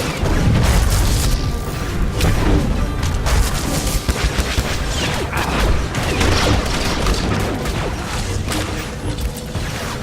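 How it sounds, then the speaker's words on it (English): Chaotic combat in Star Wars: The Old Republic, with loud booms and crashing blasts as a cryo grenade goes off, mixed with gunfire and mechanical clatter throughout. "you can see he's tossing a cryo grenade at one of the other troopers"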